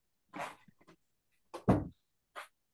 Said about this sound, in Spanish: Están escuchando a mi perro